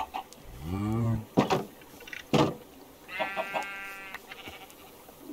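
Game chicken from the farming video game Ocean Block, with a few synthetic bleating and clucking animal calls among other farm-animal sounds, moderately loud and spaced out over a few seconds.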